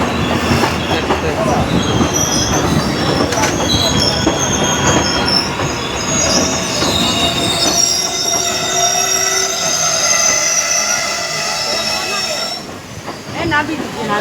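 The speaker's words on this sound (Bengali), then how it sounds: "রানাঘাট স্টেশনে ঢুকলো শান্তিপুর" A train rolls into Ranaghat station with loud rumbling and long, high metallic wheel squeals as it slows, the screeching sustained near the end; voices can be heard faintly.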